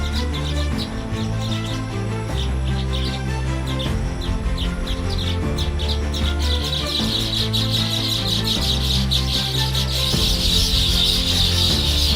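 Baya weavers chirping and calling in a busy chorus, rapid repeated tweets over a dense background with a rasping, rubbing texture, growing brighter toward the end.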